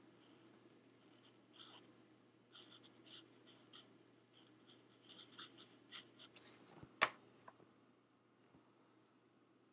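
A pen scratches and taps in short, faint strokes on a scrapbook page, adding pink touches by hand, with one sharper knock near the end in a quiet room.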